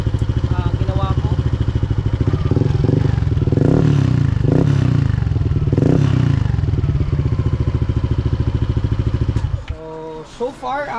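Yamaha NMAX v2 scooter with a stock engine and a Sun Racing aftermarket exhaust pipe idles and revs with a loud, close, throbbing exhaust note that holds steady and then cuts off near the end.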